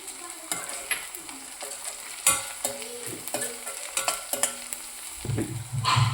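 Onions fried with crushed ginger and garlic for aloo palak, a close, steady sizzle broken by scraping stirs and a few sharp clanks of the spatula on the pan.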